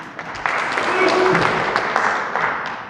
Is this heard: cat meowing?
no